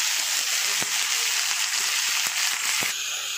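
Pumpkin and okra fry in a pan with onion and green chili in an Odia-style saag bhaja, giving a steady, close, bright sizzle broken by a few soft clicks of stirring.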